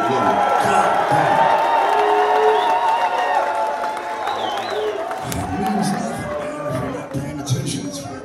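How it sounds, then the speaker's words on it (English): A concert crowd at a live metal show in Cleveland cheers and whoops after the band calls for applause, loud at first and tapering, with the performer talking over the noise. "Give yourself a round of applause."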